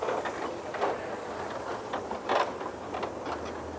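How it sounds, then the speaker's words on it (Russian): A German-built post-war narrow-gauge steam locomotive runs in a park in Russia, giving a steady mechanical rumble with a rhythmic, repeating chuffing clatter at moderate distance and no voices. "Это единственный на всю страну действующий, находящийся на ходу, узкоколейный паровоз немецкого производства послевоенного"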